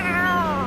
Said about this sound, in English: so we're just going to go ahead and follow a cat now